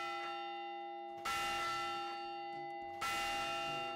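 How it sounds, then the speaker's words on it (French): A clock tower bell, its hammer lifted by a cable and lever, strikes twice about two seconds apart, each ringing stroke sustaining and slowly decaying with steady harmonic tones, no voices present. "La cloche fonctionne sensiblement de la même manière, avec un câble et un levier qui lèvent le marteau avant de frapper la cloche."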